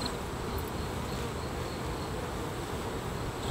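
Dense, steady buzzing of honey bees at an apiary of about 100 hives, a continuous close drone with no talk.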